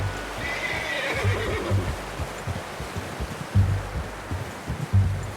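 A horse in Red Dead Redemption 2 neighs and whinnies while hooves clip-clop in irregular steps, close and fairly loud over a rustling outdoor background with no talk.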